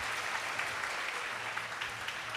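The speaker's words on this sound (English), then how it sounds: "Give her a huge round of applause, everyone." Sustained applause from an audience at a Sunday devotional program honoring two Vedic scholars, a steady even wash of clapping with a faint low hum underneath, no voices standing out.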